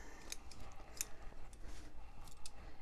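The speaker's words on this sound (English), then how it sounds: "So I'm just going to cut a square of the interface out." Scissors cut a square of fusible interfacing for a T-shirt quilt, with a few faint, sharp snips scattered over low background hiss, close but quiet.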